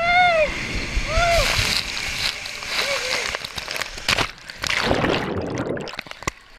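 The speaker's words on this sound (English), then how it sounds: "You get to fly by with a huge speed and tons of nice scenery through this water slide." Water splashing and rushing on a fast amusement-park water slide comes in bursts and surges, with whooshes and scattered voices and shouts over the flow.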